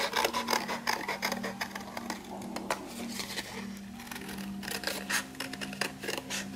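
Scissors cut around the edge of a card-paper piece for a double oval greeting card, giving a steady run of close, crisp rasping snips and paper scraping throughout.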